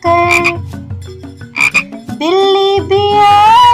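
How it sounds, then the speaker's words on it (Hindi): A cartoon frog croaks in a children's Urdu nursery rhyme, with several bright, bouncy croaks and rising ribbits set over a light musical backing, close and clear. "मेंढक भी आया फुदक फुदक कर।"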